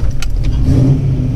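A Ford Mustang Foxbody with a 5.0 V8 and Comp Cams XE266HR camshaft idles loud and close, a deep lumpy rumble with choppy uneven pulses after dropping from higher revs.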